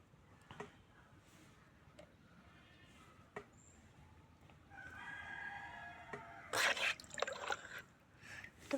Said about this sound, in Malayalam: ഒരു കോഴിയുണ്ട്